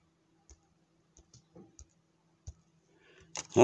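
A computer mouse clicks several times at uneven intervals, crisp and close, while a YouTube Studio page is navigated, followed by a short louder rustle at the end.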